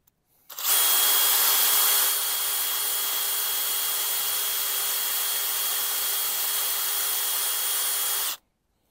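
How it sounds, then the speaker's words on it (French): Rotary wire brush on a power tool cleaning a copper pipe, one continuous loud whirring hiss lasting about eight seconds that starts and stops abruptly. "je vais nettoyer à la rotobrosse mon tuyau de cuivre"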